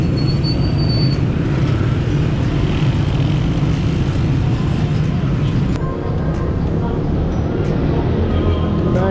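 Dense, chaotic traffic in a crowded Tehran street, with a steady loud rumble of cars, buses and motorbikes close by and continuous low engine drone throughout.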